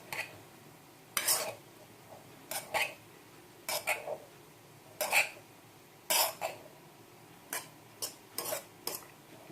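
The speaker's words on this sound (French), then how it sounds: "je reprends le fouet et je détache les grains comme ceci" A whisk works through steamed semolina grains in a bowl with about a dozen short, sharp scraping strokes, irregular and close, separated by brief quiet pauses.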